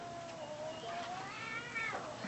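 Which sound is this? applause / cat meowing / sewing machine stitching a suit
cat meowing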